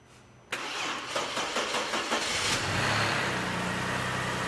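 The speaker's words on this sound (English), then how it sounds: "now let's start the car" An Audi engine cranks and catches after a short quiet pause, then settles into a steady idle with a few brief rev flutters, close and fairly loud with no talking.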